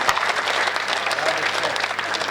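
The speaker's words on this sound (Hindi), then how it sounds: "दोनों हाथ ऊपर उठाकर एक बार इस कवि सम्मेलन के लिए तालियां बजाएं" Audience at a kavi sammelan (Hindi poetry gathering) clapping hands together, a dense, even burst of applause that runs steadily for a couple of seconds.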